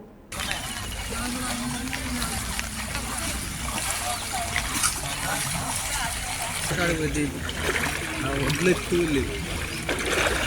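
Floodwater from a swollen village stream rushes steadily through a flooded grain purchase centre after unseasonal rain, a continuous near splashing and trickling wash under light background talk.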